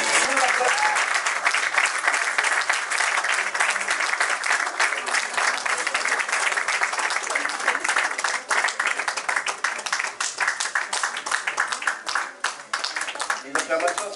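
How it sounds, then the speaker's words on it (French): Applause fills a graduation ceremony hall as graduates are proclaimed, a dense, steady wash of many hands clapping that holds for a long stretch before thinning and growing more scattered toward the end. "Les acclamations sont timides."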